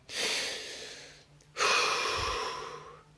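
A single deep, slow breath taken during a guided relaxation exercise: a long, soft breathy inhale, a brief pause, then a fuller, louder exhale that gradually trails off, close to the listener with no talking.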